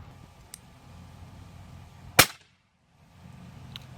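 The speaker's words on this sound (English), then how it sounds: "See what the URAGAN 30 caliber sounds like." A single sharp crack comes from a URAGAN .30 caliber PCP bullpup air rifle shot into a tree, close and brief, over faint outdoor background with small ticks before and after.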